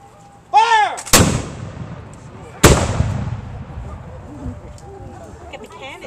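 Two loud, sharp booms from a ceremonial colonial-era cannon at the dedication of a restored arsenal, each blast followed by a rolling decay, with a musket-like volley and outdoor crowd ambience between them.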